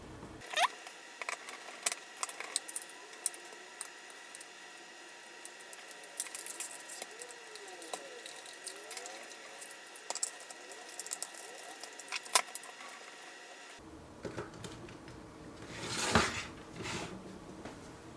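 Four 3x10 screws are turned by hand into the rear chassis piece of a Tamiya Lancia 037 Rally TA02S RC car kit, giving close, quiet ratcheting clicks and small scraping ticks in irregular bursts, with no talking.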